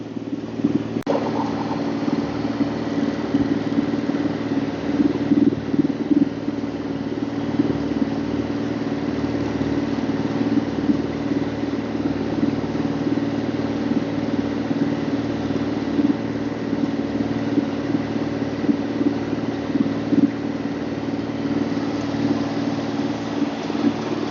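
A steady, droning boat engine runs continuously and loudly throughout, with a constant low hum and no voices, off Norman Island in the British Virgin Islands.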